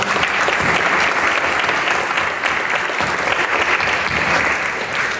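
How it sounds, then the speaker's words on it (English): Loud, continuous applause from a forum audience greeting a state senator, a dense roar of clapping held at full strength for several seconds without speech. "So if we could give him one more round of applause."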